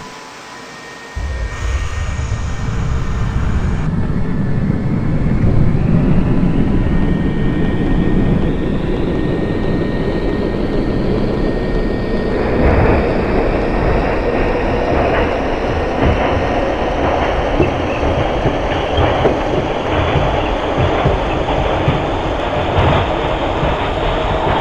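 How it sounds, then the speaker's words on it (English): A Q Express subway train in the OpenBVE train simulator game starts and accelerates, its motor whine climbing steadily in pitch over a loud, constant rolling rumble. "This is a Staten Island bound Q Express train."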